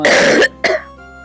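Two close, harsh coughs or throat clearings, the first longer and the second shorter, with no talking.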